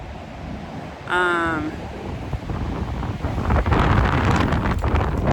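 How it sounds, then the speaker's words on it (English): Wind gusting off a cliff on a hiking trail, steady roaring buffeting over the mic that grows stronger toward the end, with a brief tonal whistle early on. "The wind is blowing off the cliff."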